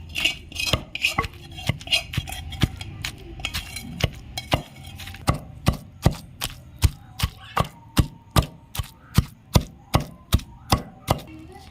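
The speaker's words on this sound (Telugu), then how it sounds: "ఉడికించి పెట్టుకున్న రెండు టమాటాలు ఈ విధంగా వేసుకోవాలి నీట్గా వేసుకొని మళ్ళీ దంచుకోవాలన్నమాట" Boiled tomatoes and garlic being pounded in a stone mortar for gongura chutney, a steady series of about twenty sharp, regular thuds, close and loud, with a faint clink between strokes and no talk.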